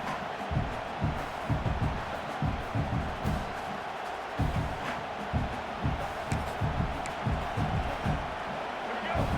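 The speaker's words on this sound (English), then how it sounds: "The roar of the crowd trying to fuel this defense to keep them pinned in their own end" Stadium crowd roaring in EA College Football 26 during a college football game, a broad, sustained roar with rhythmic swells and chant-like pulses, with commentators talking over it.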